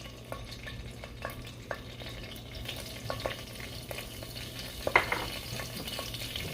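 Cumin seeds hit hot oil in a pan and sizzle softly, with faint, scattered pops and crackles over a low, steady hiss, quiet and with no talking.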